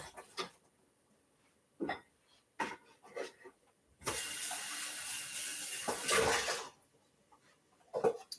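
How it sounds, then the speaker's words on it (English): Strawberries rinsed under a running kitchen tap: a few scattered knocks and clatters, then a steady rush of water for about two and a half seconds, followed by more handling sounds. "I'm just giving them a rinse."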